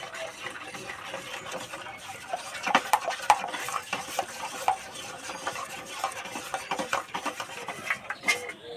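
Steady stirring of sugar into a batter-like mixture in a bowl or pot, with repeated scraping and clinking strokes of a spoon against the vessel, close and moderately loud, with no talking.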